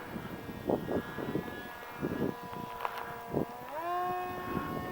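A Firebird Commander 2 RC plane flies in high winds, its small motor whining at a shifting pitch that rises sharply near the end, with gusty wind buffeting the microphone in bursts.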